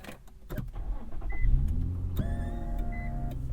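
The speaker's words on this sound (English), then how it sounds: "so as I start up the car" A 2008 Infiniti M35X starts up: a short starter whir followed by a steady idle hum, with tonal electronic chimes and a motorized seat moving inside the cabin, close and fairly quiet.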